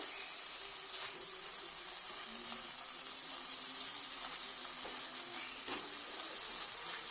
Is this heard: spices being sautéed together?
yes